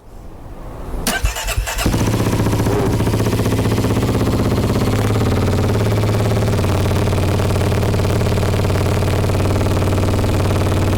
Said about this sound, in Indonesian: Biasanya kalau KLX itu dia suka manasin sendiri ya, dia punya RPM idle-nya itu ditinggi dulu